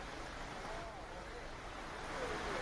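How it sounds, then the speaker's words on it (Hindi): Fast-flowing floodwater after monsoon rain in Amreli, Gujarat gives a dense, steady rushing wash that stays broad and loud throughout without any break. "पानी का बहाव आप देखिए किस कदर तेज पानी बह रहा है"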